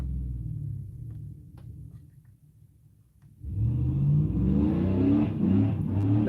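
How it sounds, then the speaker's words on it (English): A loud car engine revving outdoors: a quieter rumbling idle gives way to a sudden surge of throaty revving that holds steady and close for the last few seconds. "That car is so loud."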